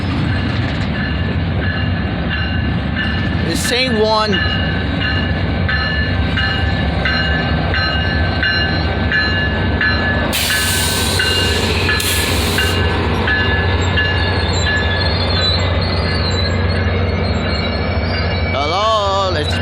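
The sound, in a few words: train passing slowly in New Mexico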